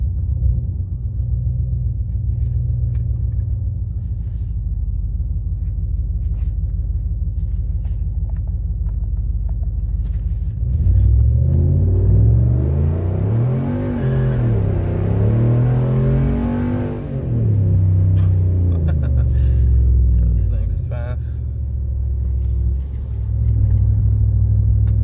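A Ram 1500 pickup fitted with Doug Thorley catless headers and the cutout closed idles with a low steady rumble, then accelerates hard into a loud rising roar that climbs and falls through the gears, close by.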